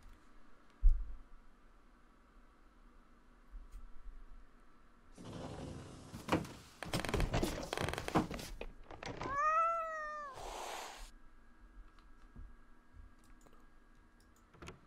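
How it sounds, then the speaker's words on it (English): Cat in the horror game The Kidnap gives a single clear, drawn-out meow near the middle, surrounded by clicks, a door-like clatter and faint background hum, with no talking. "That's my cat. I can hear my cat."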